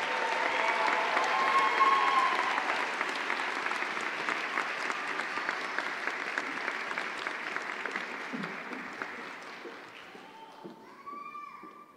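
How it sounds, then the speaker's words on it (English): Sustained applause from a large convocation audience honoring doctoral graduates at a University of Oklahoma education ceremony, loud and dense at first, then gradually thinning toward the end, with a few voices rising briefly near the close. "Let's have a round of applause for all of our doctoral graduates."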